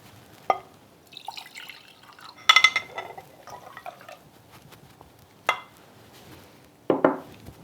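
Dirty water carrying acrylic paint is poured from one glass jar into another, giving a few separate splashes and trickles with clinks of glass, sparse and close, with quiet gaps between pours.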